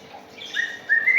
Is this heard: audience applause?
no